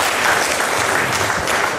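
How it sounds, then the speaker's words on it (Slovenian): Members at an annual meeting of a diabetics' association give a big round of applause, loud, close and continuous clapping from a full room, with no speech over it. "Vi pa en velik aplavz za njega."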